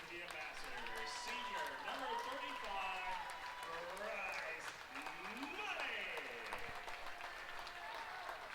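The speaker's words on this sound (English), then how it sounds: "get him some well-deserved applause" Crowd applause in a college basketball arena at the 2019 men's ACCA championship as an Ozark player heads to the bench, steady cheering and clapping throughout with loud announcer-style talk and crowd voices layered over it.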